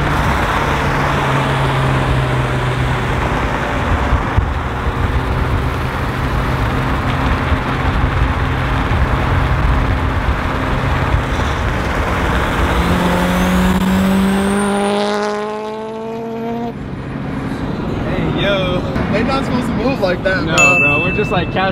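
A Nissan 370Z fitted with a 2JZ engine cruising, the engine droning steadily and then revving up through gears with rising pitch, heard from inside the car while people talk.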